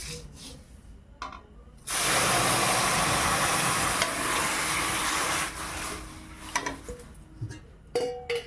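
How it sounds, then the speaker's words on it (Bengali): Milk hits a hot pan of fried vermicelli in a village kitchen, bursting into a loud, sustained sizzle for a few seconds before easing into softer bubbling and scattered clinks. "এইবার দুধটা দিয়ে দেই।"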